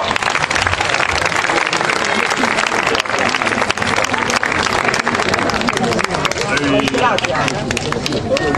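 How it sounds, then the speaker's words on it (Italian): Audience applause for a soprano at an award ceremony, the Nuccio Costa prize, heard as a loud, dense and sustained clapping crowd that fills the whole stretch without letting up. "Angela Curiale, un applauso"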